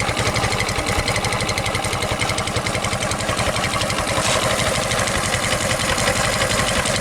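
A Mondial 150 HS scooter engine idles steadily up close, with a rough, raspy putter from a leaking exhaust running throughout without a break.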